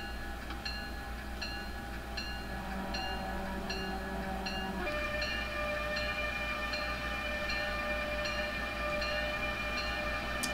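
An Amtrak train running in Train Simulator 2018, a steady rumbling rail drone with repeating clicks and tonal hums, loud and continuous with no talk.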